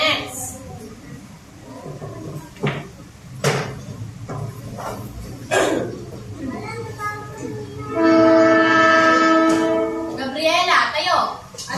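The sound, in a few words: train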